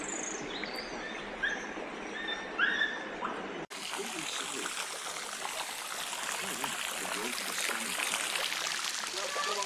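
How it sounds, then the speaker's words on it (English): Slow trickle of water running over a cliff edge at the Petrifying Well in Mother Shipton's Cave, a steady close wash of water with a few bird chirps early on, continuing unbroken throughout. "It flows down here and then straight over the edge of this cliff through that very slow moving trickle"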